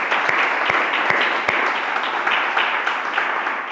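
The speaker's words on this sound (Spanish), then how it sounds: "vamos a darles un fuerte aplauso a todos nuestros amados de Pereira" A church congregation claps steadily, a full, continuous wash of applause with a few sharp individual claps near the start.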